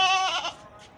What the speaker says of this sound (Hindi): हमारे पास एक ये बकरा है